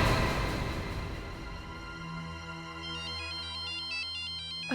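A mobile phone rings in a hospital scene, its melodic electronic ringtone repeating in a steady pattern of chiming tones, clear and close with no speech over it.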